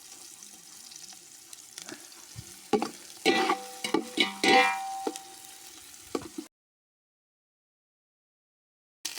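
Onions and curry leaves fry and crackle in a hot pan for a village-style chicken curry, a steady sizzle broken by louder bursts of hissing and clattering stirring, then cutting off into silence.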